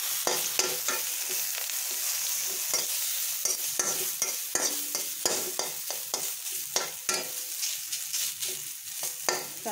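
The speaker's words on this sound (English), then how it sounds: "Fried it nicely." Cassava chutney frying in a pan, a steady bright sizzle broken by frequent sharp scraping clicks of a spoon stirring against the pan, close and continuous.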